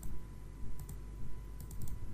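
Computer keyboard keys tapped during Photoshop work, with a few short bursts of clicks for copy and paste shortcuts, close and moderately loud over a low hum.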